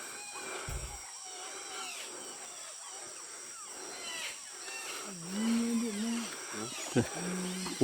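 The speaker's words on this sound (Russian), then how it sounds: "там еще птичка какая-то орет, попугай орет" Evening chorus in the Ecuadorian Amazon jungle, with parrots and other birds screeching and calling over one another, a busy mix of shrill cries near and far, with someone speaking in between.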